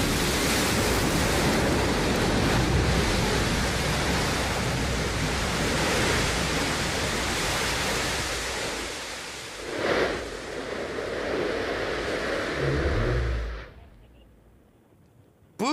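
Blue Origin New Shepard booster's BE-3 rocket engine firing during landing: a loud, steady broadband roar that swells briefly near the end, then cuts off abruptly into near silence.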